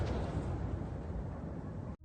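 Explosion from a drone strike on an oil depot or energy substation in Russia's Tambov or Bryansk region: a loud, sustained, rumbling blast that fills the whole moment and then cuts off abruptly.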